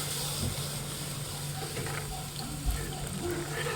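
A continuous stream of hot water pours into a pan of Saoji patwadi curry, a steady wet rushing sound with faint bubbling, close and even throughout.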